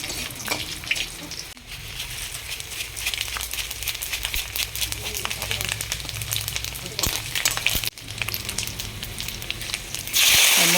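Bay leaf, dried chilli and five-spice sizzle in hot oil, a continuous close crackling hiss with a few stirring clatters, ending in a louder burst of hiss.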